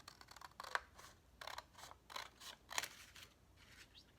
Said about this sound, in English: I'm going to take my scissors and I'm just going to go ahead and cut these in half